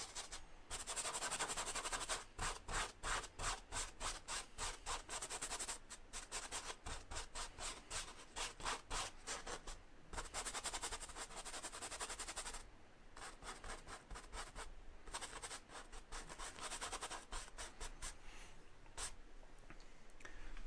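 Oil painting medium being brushed over the surface of an oil portrait painting, a continuous close rubbing and scratching of bristles across the canvas with brief pauses between strokes.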